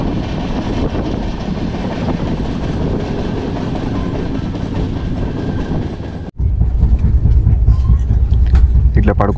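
Duronto Express train number 12286 from Delhi to Secunderabad rolling along the rails, a steady loud rumble heard from inside the coach, with a sharp break partway through into a closer, boomier low rattle of wheels and carriage.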